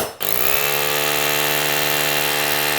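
A hammer drill runs steadily at full speed for a few seconds drilling into a concrete basement floor, loud and close, starting and stopping abruptly.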